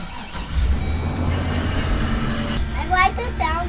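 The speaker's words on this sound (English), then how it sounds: "That's the sound of LS horsepower, Smoke." An old junkyard van fitted with an LS engine starts and settles into a loud, steady rumble, and a voice chatters over the running engine near the end.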